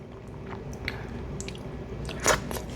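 Someone bites into a ripe, creamy pawpaw fruit and chews it up close. Soft wet squishes and small crunches build to a sharper bite near the end, with no talking.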